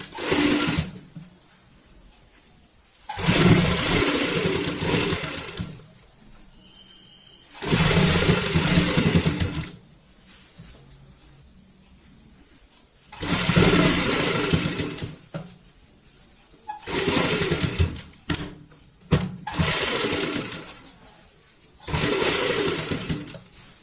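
Sewing machine stitching over a frilled seam on a baby bed sheet, running in several loud bursts of a few seconds each, separated by short quiet pauses.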